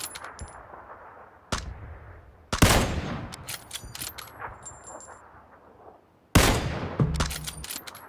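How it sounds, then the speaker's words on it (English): Three separate gunshots crack out loud and close, each followed by a metallic ringing tail, with quieter gaps between the blasts. "I'm gonna shoot better."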